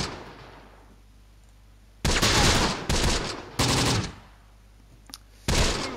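Automatic weapons fire in the Close Combat: The Bloody First tactical war game, three or four loud sustained bursts separated by short quiet gaps over a low background hum.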